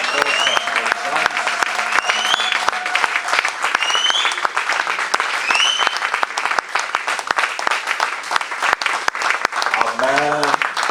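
A church congregation applauds steadily and loudly throughout, with singing and chanted voices layered over the clapping and a few voices joining near the end.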